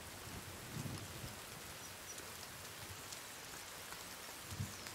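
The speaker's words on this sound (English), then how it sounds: "Great, it's raining." Steady rain falls in The Forest game world, a soft continuous hiss of drops on the surroundings with a couple of faint low rumbles, no talking over it.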